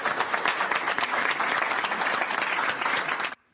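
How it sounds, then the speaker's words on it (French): Care workers applaud around a resident at a nursing home, loud, dense clapping sustained without a break before cutting off abruptly at the end. "sous les applaudissements des soignants qui entouraient cette résidente de l'EHPAD"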